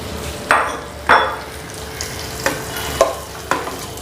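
Ghee tempering with pepper, cumin, cashews, curry leaves and asafoetida for foxtail millet pongal, a continuous close sizzle broken by five sharp spoon or pan clinks at roughly half-second intervals, no speech.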